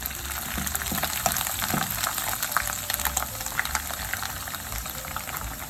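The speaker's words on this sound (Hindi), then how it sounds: "ये हमने करेले का जो छिलका रखा था धो के नमक लगा के, इसको हम फ्राई करेंगे।" Salted, washed bitter gourd peels fry in hot oil, giving a dense, steady sizzle and bubbling that fills the whole stretch, close and fairly loud with no talk over it.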